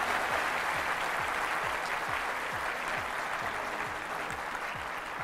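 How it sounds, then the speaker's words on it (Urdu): A studio audience at a home economics, art and design institute keeps up steady, dense applause for several seconds, with low thumping underneath. "تھوڑی سی تالیاں بجائیں تاکہ پتہ لگے."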